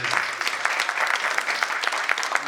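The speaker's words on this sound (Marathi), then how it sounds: "जरा जोरदार टाळ्या." Applause from an audience at a Bal Vihar reunion event, dense steady clapping sustained throughout, fairly close and continuous.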